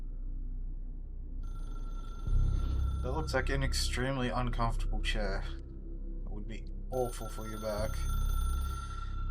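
A telephone rings inside the video game Control, repeated electronic trills layered under someone speaking, with a low ambient hum behind.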